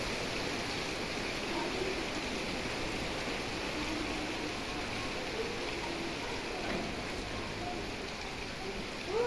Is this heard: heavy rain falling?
yes